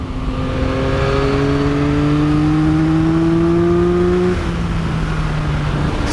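A 2023 Yamaha XSR900 motorcycle engine revs up with a rising whine, then briefly dips as it shifts up into fourth gear and keeps pulling, loud and steady.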